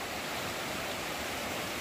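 Gulf Hagas Brook rushing below a hiking trail on the Appalachian Trail, a dense continuous roar of flowing water, steady and fairly loud with no voices over it.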